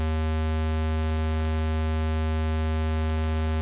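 A steady, unchanging synthesizer sine-wave tone from a software oscillator, loud and continuous for a few seconds with nothing else heard.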